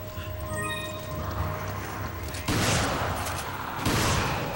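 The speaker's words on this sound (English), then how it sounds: "she's helping me out with her rifle there" In a Resident Evil 5 game scene, two loud rifle shots crack out a little over a second apart, each leaving a noisy decaying tail over quieter background game sounds.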